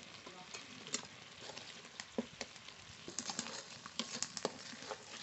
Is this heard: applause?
no